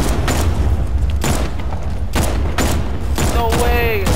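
Batman Arkham Knight gameplay gunfire thuds out as a series of muffled, evenly spaced shots over a steady rumbling background, with a rising whistle near the end.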